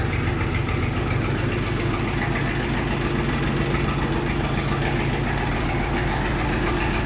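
A Kentavr 244SX mini tractor engine idles steadily at 700 RPM up close, a loud continuous rattling chug with an even rhythm and no voices.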